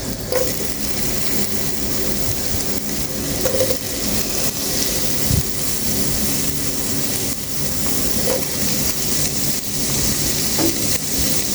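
Chopped onions dropped into hot oil for chicken with chilli sauce sizzle and crackle steadily and fairly loud throughout, with occasional scrapes and clinks in the pan.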